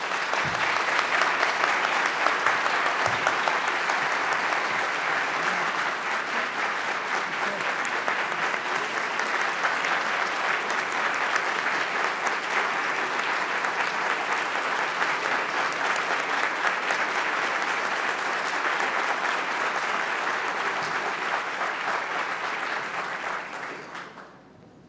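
A large congress audience at a Brazilian consumer law conference bursts into sustained, dense applause after a lecture, holding steady at full strength for over twenty seconds before cutting off abruptly at the end.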